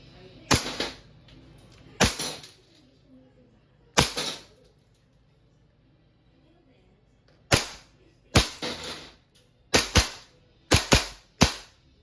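Single sharp shots from a WE Hi-Capa 5.1 Type R semi-automatic airsoft pistol during an accuracy test, about ten crisp cracks spaced irregularly, some in quick pairs, each with a short rattling tail, with no talk.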